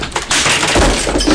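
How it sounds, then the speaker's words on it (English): Keyboard smashed by a raging gamer: a loud, close crack and clatter of breaking plastic, one heavy impact followed by rattling debris over a second or so, no talk. "Keyboard smashes have to be among the most satisfying."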